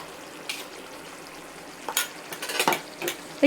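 Ground masala paste with chilli powder stirred in hot oil, giving a soft, low sizzle with intermittent spoon scrapes and clinks against the pan.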